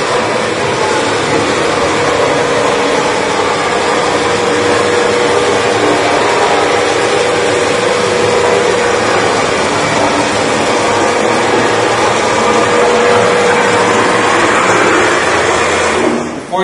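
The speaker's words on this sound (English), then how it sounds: "now the machine will move, I'm going to hit Y minus, and control the speed right here" A tutorial machine travels along its Y axis, giving a loud, steady mechanical whir with a faint sustained tone that runs unbroken until it cuts off at the end.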